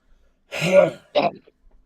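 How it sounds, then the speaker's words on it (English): A person clears their throat close by in two short bursts, a longer rasp followed by a quick second one, against a quiet room with no talk. "I need to clear my throat"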